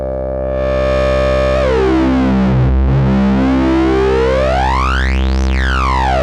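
A distortion plugin preset with a dense, sparkly, fizzy character, sweeping tones gliding down and back up through bright buzzing harmonics, steady and loud with no voices.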